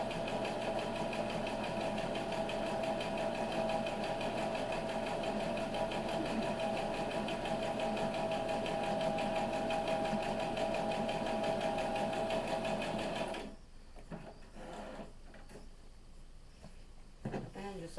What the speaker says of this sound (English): right now you're just seeing my sewing machine